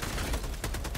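Rapid gunfire from a Helldivers 2 battle against Terminators, dense automatic bursts crackling loud and close, with a sharper volley of shots near the end.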